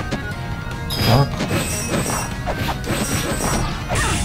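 A snowball drops onto the player character's head in La-Mulana 2, a sharp crunching crash near the middle amid busy game sound effects and music.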